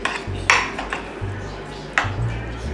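A spoon stirs baked beans with dark brown sugar in a pot, giving a few close metallic clinks and scrapes across a short, busy stretch.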